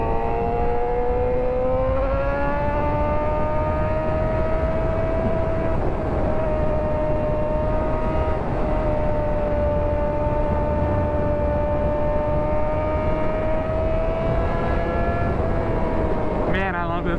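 A rebuilt Suzuki GSX-R 600 sport bike drones steadily at speed, its engine note a sustained tonal whine that climbs slightly and holds, loud and continuous under heavy wind rush.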